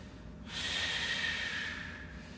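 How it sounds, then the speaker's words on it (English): A slow, steady exhale of deep breathing held through a yoga pose, a soft airy rush beginning abruptly and lasting about two seconds, close and fairly quiet, with no talk over it. "Last 2 deep breaths."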